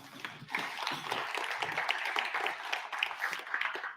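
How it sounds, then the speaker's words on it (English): Audience at a science fair keynote and magic show applauding, a dense patter of clapping hands that starts abruptly and carries on steadily for several seconds at moderate volume. "Everyone give Megan a round of applause"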